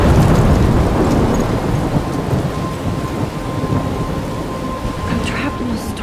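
Thunderstorm with steady heavy rain and rolling thunder in the Life Is Strange video game, a loud, continuous wash of rain with deep rumbles throughout, faint tonal hum beneath.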